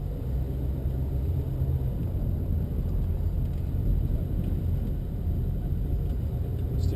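A 1968 Mercury Cougar pulls away, its engine giving a continuous low rumble heard from inside the car, steady and fairly loud throughout with no talking.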